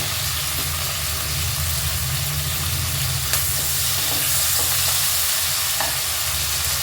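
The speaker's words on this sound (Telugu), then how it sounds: "ఉల్లిగడ్డ కొంచెం కలర్ మారిన తర్వాత పచ్చిమిర్చి కరివేపాకు జారుతూ" Onions sizzling loudly in a pan with green chilies and curry leaves while cooking aloo pulao, a steady dense frying hiss with occasional stirring scrapes, no talking.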